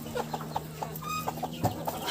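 Chickens cluck in short, scattered bursts close by in a farmyard poultry area in autumn, with a faint steady hum in the background.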